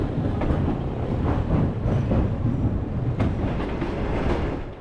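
A sleeper train rolls across the 650-metre, eight-section colonial-era Empress Bridge over the Sutlej River, giving a steady, close rumble of wheels with rhythmic clickety-clack beats and metallic knocks throughout.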